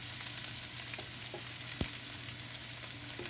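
Onion and peppers frying in olive oil in a pot, a steady close sizzle with a soft knock partway through and no talk.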